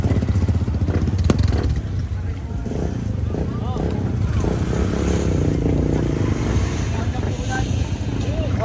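A motorcycle is loaded onto a boat at a river crossing on the Daraitan river in Tanay, Rizal, Philippines, its engine and clattering running steadily beneath near constant talk, with water and boat noise around it.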